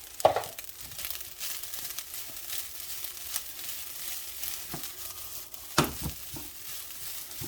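Fried rice frying and being stirred in a pan as green onion goes in at the end: a steady soft sizzle throughout with a few louder clacks of a utensil against the pan, no talking.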